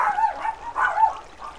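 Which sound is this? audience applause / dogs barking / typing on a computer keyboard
dogs barking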